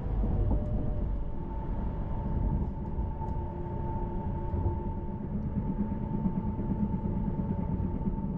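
A Desiro passenger train running through the Ardennes between Luxembourg and Liège, heard from inside as a steady low rumble with a faint sustained whine, continuous and even throughout, no voices.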